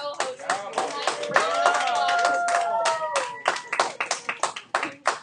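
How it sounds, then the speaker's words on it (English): Students in an algebra classroom break into applause for a co-host, irregular hand claps rising and thinning, with a sustained voice or cheer carrying over the middle of the clapping. "round of applause"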